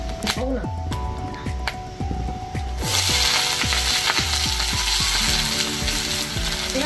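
Dried red chillies hit hot oil in a wok and burst into a loud, bright sizzle that swells partway through, with rhythmic scraping and clinking from stirring and a voice talking over the frying.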